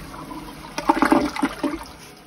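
A toilet in a small guard shack restroom flushes with a sudden rush of water that gurgles and swirls for about a second before draining off, fairly close by.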